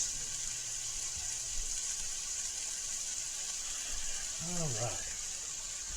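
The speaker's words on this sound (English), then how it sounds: "I'll wash my hands real quick." A kitchen tap runs steadily for hand washing while chicken rigatoni is being cooked. The water makes a constant hiss throughout, and a voice speaks briefly near the end.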